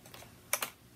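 A piece of brass wire is snipped with cutters: two quick, sharp metallic clicks close together, near and fairly quiet, with no talking.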